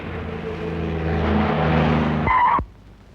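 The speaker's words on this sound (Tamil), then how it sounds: "அப்பா, கார் வந்திருக்குப்பா." A car arrives with tires skidding loudly and close, a sustained engine roar and screech that cuts off sharply just before the end.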